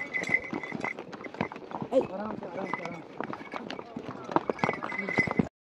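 Horses' hooves clip-clop in quick, uneven beats on a steep mountain trail climbing toward snow in Gulmarg, Kashmir, with riders talking over the steps throughout.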